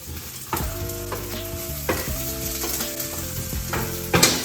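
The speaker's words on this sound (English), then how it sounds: "dump in your chickpeas" Chickpeas tipped into a hot pan and frying, with a loud steady sizzle, several clattering stirs and scrapes at intervals, and a sharper burst near the end; no one speaks.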